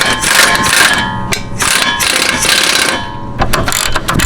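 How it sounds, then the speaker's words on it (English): A wrench ratchets a bolt tight on the rear lower control arm of a 2005-2014 Mustang, loud close bursts of rapid clicking with brief pauses between strokes. "tighten it back up with the wrench."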